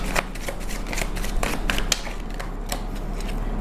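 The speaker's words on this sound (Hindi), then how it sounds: "मैं लास्ट शफल करने वाली हूँ।" Tarot cards are shuffled close by, a rapid run of crisp riffling flicks and slaps, with no voice over them.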